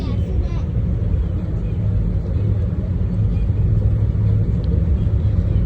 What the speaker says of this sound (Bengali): ট্রেন স্লো যাচ্ছে